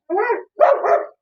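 A guard-trained dog barks aggressively during attack training, two sharp, close barks in quick succession with a brief gap between them.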